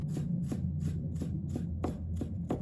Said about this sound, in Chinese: 1块生姜，把它切成片，再切成丝，